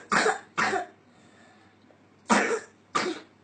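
A child with a runny, congested nose coughs at night, with two pairs of harsh, close coughs separated by a quiet pause.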